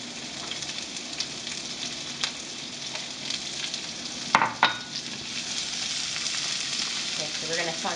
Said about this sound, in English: we're going to add the onions that we chopped up earlier